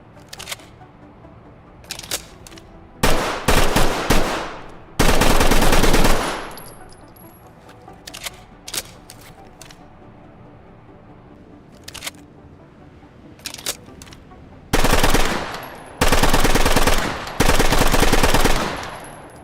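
UMP 9mm submachine gun firing in the video game Ready or Not: short crisp bursts and single shots separated by quieter mechanical handling clicks, with several loud sustained automatic bursts, no talking.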